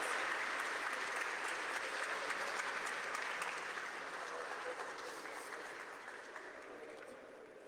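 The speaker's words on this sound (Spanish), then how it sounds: "Un aplauso" An audience at an academic event on the 1823–1824 Constituent Congress election applauds in an even, distant wash of clapping that fades gradually toward the end, with no speech over it.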